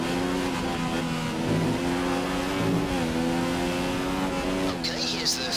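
A Formula 1 car in the F1 2017 racing game at the Hungaroring accelerating back up to speed, a loud sustained high engine whine rising and shifting through gears, steady and close throughout.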